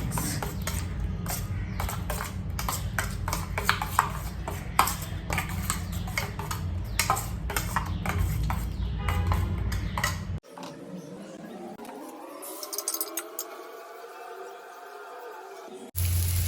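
Food being mixed with red chilli powder and salt in a pot, with a fast, steady run of metallic scraping and clinking close up, then a sudden switch to quieter, different sounds.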